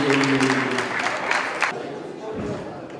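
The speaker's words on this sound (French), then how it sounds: "Applaudissez-la très très fort" A gala audience applauds a little girl, steady mixed clapping and crowd noise throughout, with a voice briefly audible at the start and the clapping thinning toward the end.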